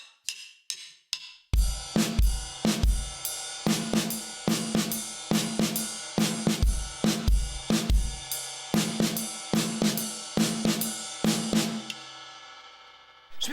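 Drum kit groove from a song played on the ride cymbal, steady repeating hits with kick and snare accents in a looping three-bar pattern, close and alone, then ringing out at the end.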